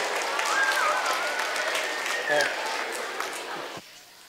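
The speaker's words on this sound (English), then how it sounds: "Round of applause for our two kindergarten students." Audience applause for two kindergarten students at an Education Week opening ceremony, a dense steady wash of clapping that holds for most of the clip and then stops abruptly near the end.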